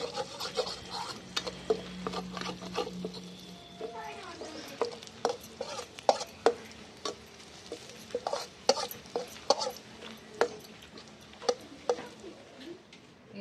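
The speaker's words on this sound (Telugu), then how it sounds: "ఇట్లా ఫ్రై చేసుకుంటాను నేను. Brown onion" Onions fry to brown in a pan for egg biryani, cooked outdoors in a farm garden; a soft sizzle runs under a series of distinct scraping clicks from a spoon stirring at an irregular pace.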